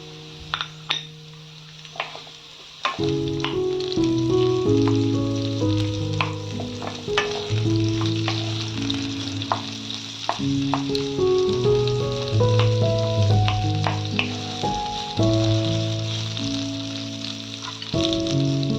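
Chopped onion hits hot oil in a pan for a Bengali prawn and papaya curry, bursting into a loud, steady sizzle after a quieter start, with scraping stirs and clinks of utensils.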